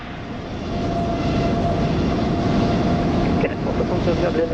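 A Japan Airlines A350 airliner in Microsoft Flight Simulator 2020 at Toulouse gives off a steady, broad jet engine roar that swells slightly at first and then holds loud and even, with no voices over it.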